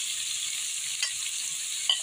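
Ginger-garlic paste fries in a pan for chana dal, a steady close sizzle with a couple of light stir clicks, no talking.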